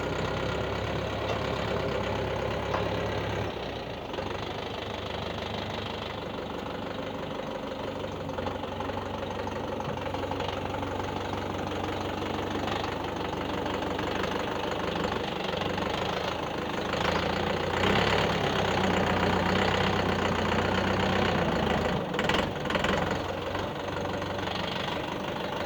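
YTO EX 604 tractor with back blade, its diesel engine running steadily through the gears, a continuous close chugging drone with slight knocking and small shifts in pitch, no talk.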